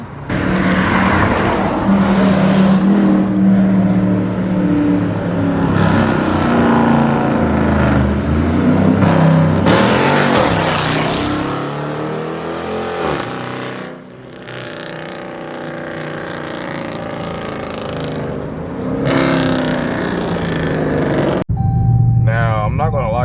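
A 2017 Dodge Charger RT with a 5.7L V8 and full 3.5-inch straight pipe exhaust revs loudly and repeatedly up close, the engine note rising and falling in aggressive bursts before settling to a rumbling idle.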